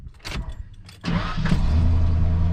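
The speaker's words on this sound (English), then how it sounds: "Now that's the way a starter should sound." A 1995 Ford F-150 pickup's new starter cranks briefly and the engine catches quickly, settling into a steady, loud idle close by.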